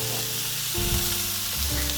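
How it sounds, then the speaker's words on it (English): Green and red bell peppers sautéing with onions in a pan give a close, steady sizzle, with a few tonal hums and shifts as the vegetables are moved about. "green and red bell pepper, and saute those with the onions together"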